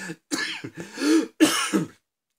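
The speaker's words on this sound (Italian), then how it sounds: "Scusate ancora la tosse" A person coughs several times in a short, close burst, with a rough throat-clearing quality between the coughs.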